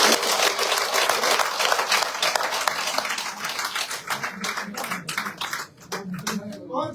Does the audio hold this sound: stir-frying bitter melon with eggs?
no